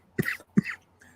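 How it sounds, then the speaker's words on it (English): Two quick, close coughs with a short gap between them, then a faint trailing sound, against a quiet background. "Got that chronic cough"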